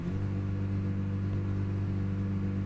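Car engine inside the Gran Turismo 6 racing game, heard from the interior view of a premium car: a steady, droning low hum with a constant pitch and no speech over it.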